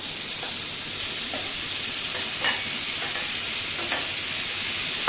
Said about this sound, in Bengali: চপ টমেটোর কাজু বাদাম সুন্দর করে ফ্রাই করে দিচ্ছি